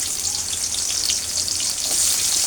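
Onions fry loudly in hot oil in a pan, a dense, bright crackling sizzle that stays constant and close throughout, with no voices.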